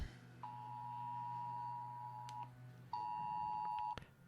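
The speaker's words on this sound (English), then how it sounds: "There's some sort of an alert on my phone." An Amber Alert emergency tone sounds from a phone: two long, loud, steady electronic beeps, the second starting after a short gap and cutting off abruptly, with no talking.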